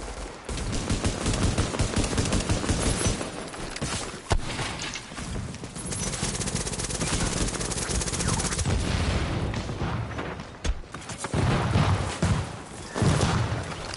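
Rapid pistol gunfire in the video game Manhunt, dense bursts of sharp shots crackling throughout, loud and continuous with brief pauses.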